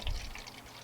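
Water pours in a short splash with a brief low gush at the start, then a steady trickle, close by.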